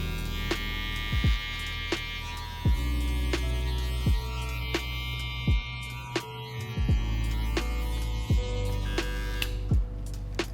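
Electric hair clippers with a 1.5 guard, open, hum steadily while cutting afro-textured hair for a skin fade, with repeated sharp ticks and taps over the close, continuous buzz.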